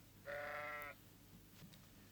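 A single sheep gives one clear, harmonic bleat lasting under a second, close and alone against a quiet outdoor background.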